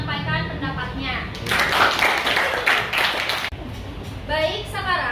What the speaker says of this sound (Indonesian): beri tepuk tangan dulu untuk Diva yang telah menyampaikan pendapatnya